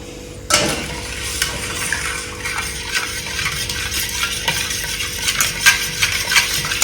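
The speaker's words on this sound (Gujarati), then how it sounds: "એક જ રાઉન્ડમાં ઘોડવાનું" Gathiya batter is stirred by hand in a single round in a village kitchen, a steady close scraping and sloshing with small clinks throughout.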